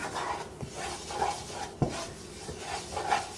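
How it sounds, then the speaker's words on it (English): A spoon scrapes and rubs as flour is stirred into bacon fat to make a roux for gumbo, a soft close rhythmic rasping with a sharper knock or two, faint and alone. "Get the flour, and you start mixing it in to make a roux."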